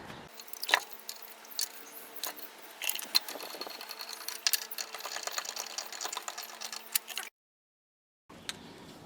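Wheel lug nuts on a Ford Escape or Mazda Tribute being run down during a front strut replacement, a dense burst of rapid mechanical rattling and clicking from a nearby impact tool, then a short pause before more faint noise.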